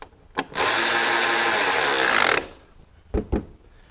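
A cordless electric ratchet works on a Volkswagen Beetle front end, giving one steady, loud whirring run of about two seconds. Sharp clicks come just before it, and a couple of knocks follow.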